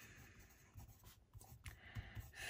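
Quiet pen strokes as number words are written out on paper, soft scratchy scribbles in short irregular bursts, close and faint.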